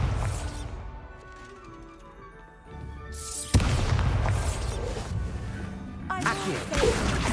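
A Bombarda spell goes off in Hogwarts Legacy, a sharp blast near the middle followed by rumbling, crashing debris over a busy game soundscape.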